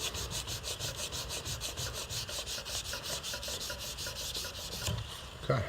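Sandpaper rubbed by hand along a knife blade during polishing, a quick regular back-and-forth rasping stroke repeating about four times a second, close and steady, ending with a small knock.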